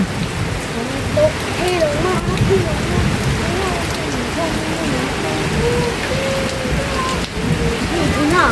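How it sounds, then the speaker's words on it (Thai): Heavy rain pours steadily in a dense, continuous hiss, with faint tonal sounds drifting through the background. "ฝนตก"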